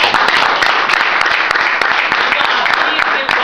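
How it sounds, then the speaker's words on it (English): Congregation clapping for Jesus Christ during a church service, a dense, loud, steady wall of many hands with sharp individual claps, continuing without pause throughout. "Shall we all give a clap to our Lord Jesus Christ?"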